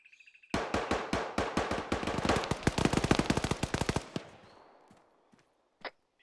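Rapid automatic machine gun fire in a military video game squad session, a loud sustained burst of dense shots lasting several seconds, then fading out with a couple of isolated sharp reports afterward.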